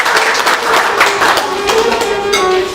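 Applause from a New Year party audience for staff of a TV channel, welcoming a general director to the stage: dense, steady clapping that runs through without a break, with no talk over it.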